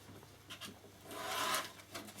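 Scissors or a blade cutting through fabric stabilizer into a 2.5 inch strip at a sewing table, a soft rubbing, rasping cut that builds and swells over about two seconds, close and quiet with no talk.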